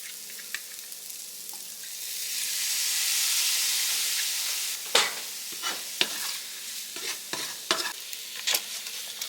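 Ramen with Worcestershire sauce and thyme sizzles in a pan. A hiss swells and fades, then sharp scrapes and clacks follow as the mixture is stirred.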